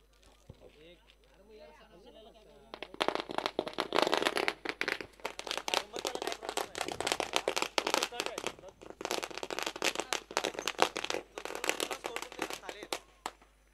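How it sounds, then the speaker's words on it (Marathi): Firecrackers burst in a long, dense volley of sharp cracks and pops welcoming a village head at a local sports tournament final. The barrage starts after a few seconds of talk, stays loud and continuous, and then thins slightly toward the end. "आणि अगदी फटाक्यांच्या आतिषबाजीमध्ये विद्यमान सरपंच कालवार गावचे सन्माननीय महेशज"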